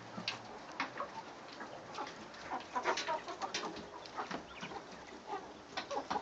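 Chickens and a big old rooster around a farmyard coop cluck and peck in a busy, irregular patter of soft clucks and ticks, fairly faint and close with no voices.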